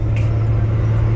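Ford Mustang GT engine with no exhaust fitted, idling as a loud, steady low rumble, close by and continuous with no talk over it.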